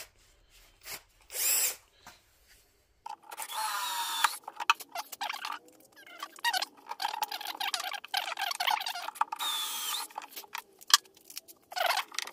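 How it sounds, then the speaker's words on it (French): A power drill bores holes into the underside of an ash wood tabletop: a short whir, a pause, then repeated close bursts of drilling into wood, starting and stopping in an uneven rhythm. "je vais faire les trous sous le plateau, parce que sur les pieds, ça peut se voir"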